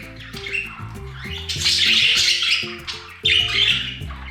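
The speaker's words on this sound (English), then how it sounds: "In domestic conditions, budgies are calm, quiet, and resilient, but also chattering birds." Four-week-old baby budgies squawk and chatter close by, with harsh, overlapping calls in loud bursts and short gaps between them.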